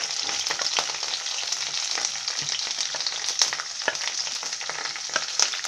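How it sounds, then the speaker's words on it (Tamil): Chopped onion frying in hot oil in a pan for rava kichadi, a dense, steady close sizzle with fine crackling pops throughout and no voices. "இப்போ வெங்காயம் கொஞ்சம் நமக்கு ஃப்ரை ஆகட்டும்"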